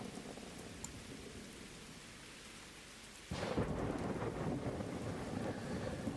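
A thunderstorm in the Derail Valley train game: steady rain hisses throughout, then a thunderclap suddenly breaks in and rumbles loudly over the downpour.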